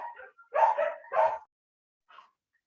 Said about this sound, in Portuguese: Ah, meus cachorros latindo.